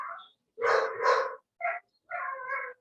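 Dog barking indoors during an online meeting: a few close, loud bark and yip bursts with short pauses, heard alone without talk.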